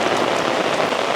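Heavy rain pours down steadily in Sri Lanka's Mullaitivu area, a dense, loud, unbroken hiss of drops striking surfaces with no voices.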